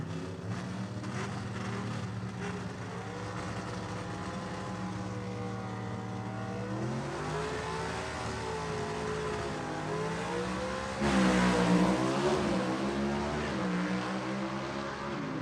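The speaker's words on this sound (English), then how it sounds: "Good drag race right there with Wayne Swafford taking the win" Vintage gasser-class drag racing cars roar down the strip at Gulfport Dragway, engines droning with shifting pitch and a louder surge near the end, heard from a distance with no talk.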